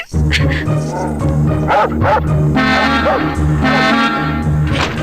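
A dog barks repeatedly in a bathroom, loud close yips and bow-wows in quick bursts with some whimpering, while people talk over it.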